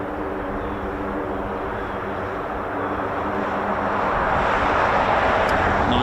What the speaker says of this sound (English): beautiful sound of the Mc-130J in the background